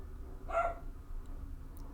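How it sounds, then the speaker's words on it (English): A single short dog bark, somewhat distant, breaks a quiet room where brass padlock picking is underway, with faint background hum and no talk. "Oh, that dog."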